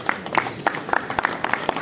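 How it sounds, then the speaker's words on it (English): Audience applause at a jewellery trade show book launch, heard as a short burst of fairly sparse, distinct claps with a loose rhythm, moderately loud and close. "Big round of applause for him, everyone."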